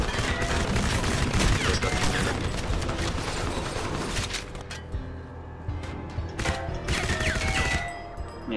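Dense, continuous gunfire and explosions in the video game Crysis, loud and chaotic throughout, with bursts of booms and rattling shots layered together.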